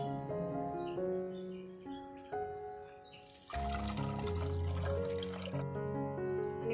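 Water is poured over grated raw potatoes to rinse out the starch while making raw potato medu vada, giving a few seconds of splashing, pouring noise in the middle of the clip over steady background music.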